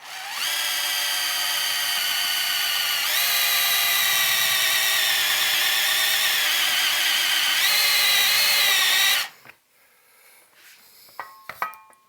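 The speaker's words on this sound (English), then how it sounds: "you can use a step drill for that" A power drill with a step drill bit whines at high pitch for several seconds as it bites through a metal amplifier chassis, then stops, leaving faint clinks and handling sounds.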